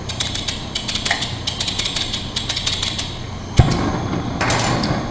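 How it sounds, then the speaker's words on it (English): Repeated sharp clicks of a lighter trying to light a gas burner at a lab bench, a rapid run of close ticks, then a thump and a soft whoosh as gas flows. "we use the lighter and we double click"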